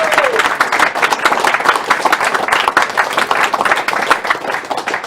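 An audience at a speedrun charity marathon claps and cheers in steady, dense applause that continues throughout at close, loud level.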